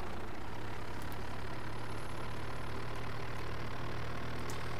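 An old IMT 540 tractor runs in Farming Simulator 2017, a steady low engine drone at constant revs with no pauses, moderately quiet and alone.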